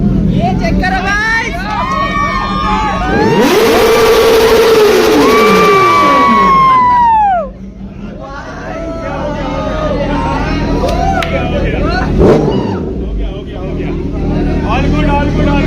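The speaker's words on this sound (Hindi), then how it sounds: "चेक कर सकते हो भाई, भीड़ और गाड़ी का साउंड।" A Kawasaki ZX10R motorcycle engine revs hard amid a noisy crowd, rising to a loud wailing peak then dropping back, with many voices chattering and shouting throughout.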